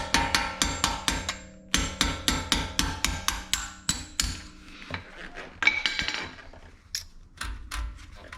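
A hammer strikes a punch to drive out the pad pin on an Audi RS3 front brake caliper, sounding as a rapid series of sharp metallic clinks, about a dozen evenly spaced blows, then fewer scattered taps.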